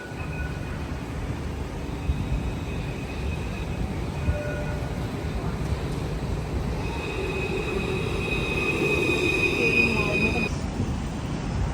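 Train rolls past with a low rumble and sustained metallic wheel squeals rising toward the end, fairly close, before cutting off abruptly.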